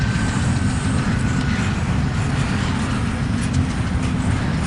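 A freight train rumbles through a rail yard, a steady heavy low roar with faint high squeal, continuous and fairly loud without pause.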